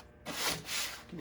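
3M printer tape is torn and pressed down onto the corners of a screen-printing screen, giving soft rubbing and smoothing scrapes in two or three quiet strokes, close by.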